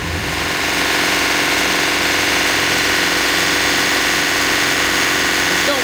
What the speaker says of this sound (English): Normally you would not be listening to the engines